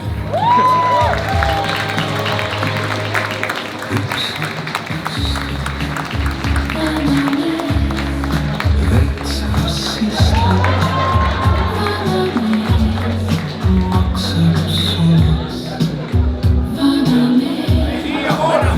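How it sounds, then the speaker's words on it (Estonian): Audience applause and cheering for a comedian taking the stage at a stand-up comedy show, a loud steady crowd din with scattered whoops, sustained throughout. "legendaarne koomik ja eesisa Elmar Vesker, teeme aplausi."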